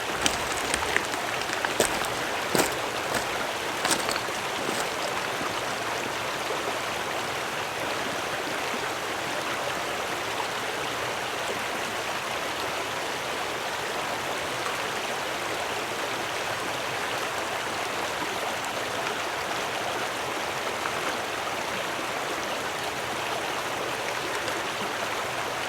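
A mountain stream runs steadily and close by in an outdoor trekking setting, a dense, even rush of flowing water with a few faint clicks near the start and no voices.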